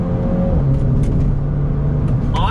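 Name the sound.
2020 Mini JCW convertible accelerating in manual shift mode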